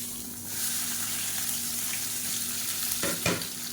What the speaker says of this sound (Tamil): வெங்காயம் வதங்குறதுக்கு உப்பு சேர்த்துக்கலாம் இப்போ ஓரளவுக்கு வெங்காயம் எல்லாமே நல்லா வதங்கிருச்சு